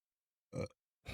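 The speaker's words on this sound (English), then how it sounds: "There's my burp." A single short, close burp breaks the silence, followed by the start of another low sound at the end.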